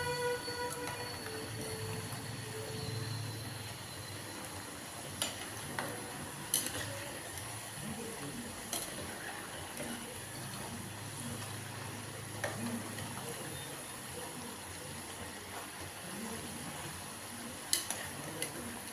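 Small rice flour snacks seasoned with chilli and salt deep-fry in hot oil, giving a steady soft bubbling sizzle with occasional light clinks from a utensil, fairly quiet and close.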